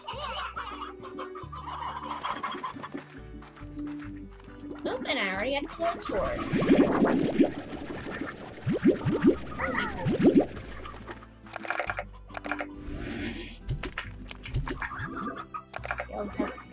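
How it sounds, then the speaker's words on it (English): Chickens cluck and squawk in the farming video game Slime Rancher, a busy mix of fowl calls and scratchy sounds that swells in the middle, while someone talks over it and game music plays. "Look at all the chickens."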